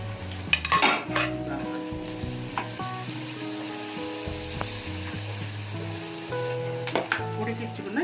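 Curry leaves frying and being stirred in a pan for a Telugu carrot fry, with steady sizzling under repeated scrapes and clinks of a spoon against the pan.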